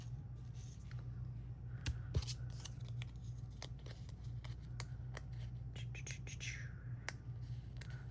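Scissors trim small paper pieces for a handmade card, producing a quiet run of sharp, irregular snips close by over a low background hum.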